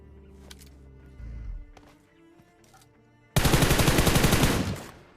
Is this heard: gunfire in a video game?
yes